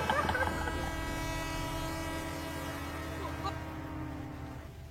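A moving train rumbles steadily with a long sustained horn-like tone as a horror story effect, the sound fading out toward the end.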